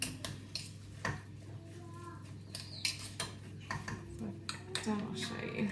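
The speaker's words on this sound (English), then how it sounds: "So I'll mix all that in." Mashed potato being mixed by hand in a home kitchen for a sausages, peppers and onions dinner, with irregular clinks and scrapes of utensil against bowl at close range and a quiet background hum.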